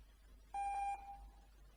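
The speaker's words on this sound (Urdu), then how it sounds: "پہلے ساؤنڈ بیپ آئے گا, پھر میسج آئے گا, پھر ساؤنڈ بیپ آئے گا" A single short computer beep from a program using an escape sequence, a clean electronic tone lasting under half a second, fairly faint against quiet background hum, with no voices.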